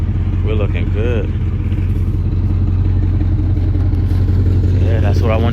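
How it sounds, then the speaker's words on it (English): A Scat Pack-swapped car with a faulty exhaust idles loudly up close, a deep steady rumble with a few brief rises, while someone talks over it. "Gotta fix this exhaust. Y'all can hear it."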